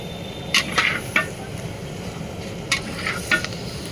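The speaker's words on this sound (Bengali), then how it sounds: "এবার চালের সাথে আলু কুমড়োটাও ভালো করে কষাবো" Rice with potato and pumpkin being stirred and fried in a pan for vegetarian khichuri, a low steady sizzle broken by a few sharp clinks of a spoon against the pot, close by, with no talk.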